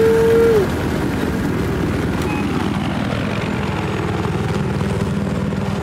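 A helicopter in a military shooter game, a Little Bird, drones with a steady rotor rumble and engine whine throughout, fairly loud and close, after a brief tone at the start.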